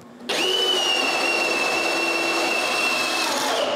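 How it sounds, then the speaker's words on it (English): A drill bit bores a hole into a dimpled spot in a panel, a steady high-pitched whine starting abruptly after a brief pause and holding constant and loud throughout. "I just need to put the tip of the drill bit into the dimple I made and drill a hole."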